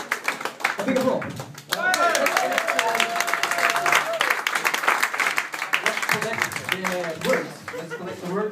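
Audience at a Magic Castle magic show breaks into energetic clapping with whoops and cheering, voices calling over the applause, which swells after a brief pause and then thins out toward the end.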